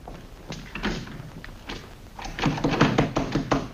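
Someone trying to open a locked door in the 1940 film His Girl Friday: a series of hollow thunks and rattling knocks, irregular and growing louder and quicker toward the end.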